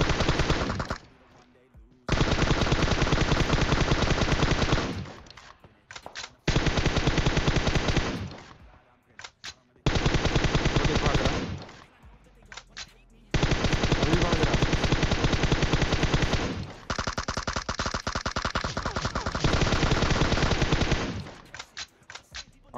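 M416 assault rifle fire in PUBG Mobile, loud automatic sprays in several long bursts separated by short gaps, each burst a rapid steady stream of shots.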